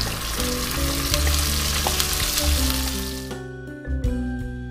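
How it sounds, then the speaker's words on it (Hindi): Butter sizzles and fries loudly in a pan with curry leaves, cumin and finely chopped masala, a steady close crackle that quiets toward the end as the heat settles. "यहाँ पे हमने एक पैन में बटर लिया है। अब हम उसमें डालेंगे कड़ी पत्ता, जीरा"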